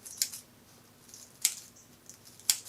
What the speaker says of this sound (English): what I want to accomplish is cutting with my pair of detail scissors, fringe all down the center here